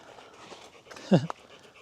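A dog pants in quick short breaths near the microphone, with a brief whimpering burst partway through and faint background sound throughout.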